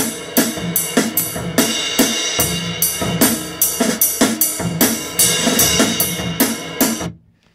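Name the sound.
recorded acoustic drum kit playing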